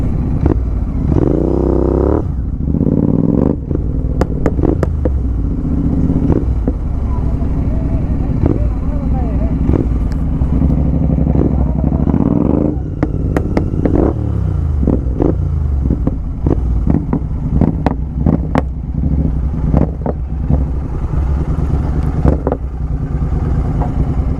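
Loud drift motorcycle engines rev and roar continuously on an off-road track in Hyderabad, with sharp throttle bursts and clattering, under a busy crowd and occasional talk.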